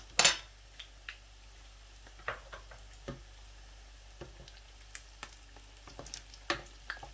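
Potato finger sticks fry quietly in hot oil, giving a soft steady sizzle broken by scattered pops and crackles, with a brief louder burst at the start.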